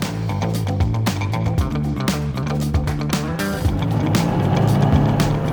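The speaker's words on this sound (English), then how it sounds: "you do get that guttural surge from the turbo when that picks up" A Lancia Delta Integrale Evo 1 drives past with its turbo engine, a close, loud, growling drone that rises and falls as it changes gears, and the turbo surges as revs build toward the end.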